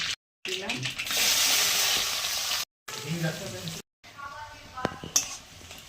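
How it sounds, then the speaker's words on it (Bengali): Black mustard seeds and dried red chillies crackle and sizzle loudly in hot oil, a steady frying hiss broken by brief gaps and a few clinks. "একটু কালো সরষে, দুটো শুকনো লঙ্কা ফোড়ন দিলাম।"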